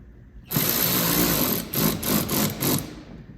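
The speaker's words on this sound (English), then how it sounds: "We've got a couple holes we need to drill out." Power drill boring holes while fitting splash guards to a 2020+ fourth-generation Toyota Highlander, a close, loud high-pitched whir starting abruptly, then pulsing in three short bursts as the bit bites.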